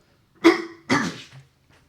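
Two harsh, forceful coughs in quick succession, close and loud, sounding like a person imitating a violent coughing fit.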